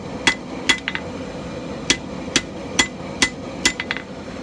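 Hammer blows ring out on hot steel while a wood rasp is forged into a snake, tapering the tail on an anvil: about a dozen sharp metallic strikes, some in quick doubles, close and clear with no talk.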